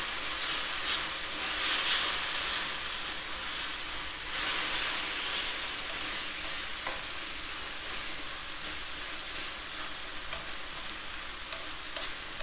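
Buffalo meat browns in a pot with a steady, close sizzle and hiss of frying that barely changes throughout, with occasional faint stirring scrapes and no talking.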